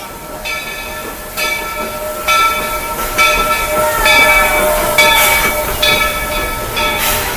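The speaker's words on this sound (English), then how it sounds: "The Walt Disney World Railroad. I can hear it coming." Walt Disney World Railroad steam train arriving at a Magic Kingdom station, a loud sustained hiss with a whistle-like tone and rhythmic clanking and chuffing pulses building as it approaches, no talking.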